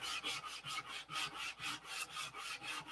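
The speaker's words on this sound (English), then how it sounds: "the bad thing about sanding these lost foam wings" Lost foam model aircraft wings are sanded by hand in steady back-and-forth strokes, producing a soft, rhythmic rasping swish repeated about a dozen times, close and moderately quiet, with no voices.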